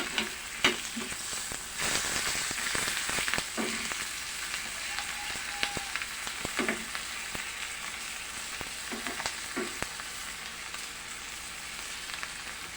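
Dried salted fish (tuyo) frying in a pan with a steady crackling sizzle, punctuated by sharper pops and a few scrapes of a utensil, fairly close and with no talking.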